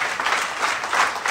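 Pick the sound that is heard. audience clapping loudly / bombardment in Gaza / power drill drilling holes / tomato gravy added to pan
audience clapping loudly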